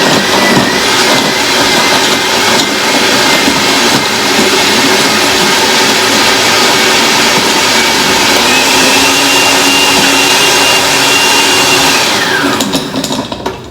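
A blender blends a pumpkin protein smoothie with a loud, continuous whirring roar that runs almost thirteen seconds, its pitch holding steady before winding down at the end.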